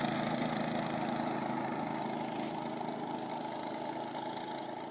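A Baja mini bike with a torque converter drives along, its small engine droning steadily at mid pitch and fading gradually as it moves away.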